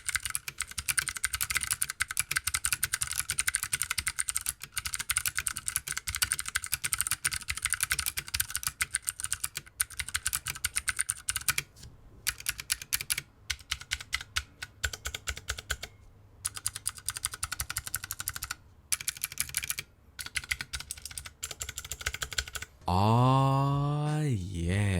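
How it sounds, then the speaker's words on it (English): Rapid, steady typing on a Ducky Mecha Mini mechanical keyboard fitted with Cherry MX Blue switches, dense clicky keystrokes close up for most of the stretch with brief pauses, ending in a short rising electronic tone. "So this time I went with the Cherry MX blue switches."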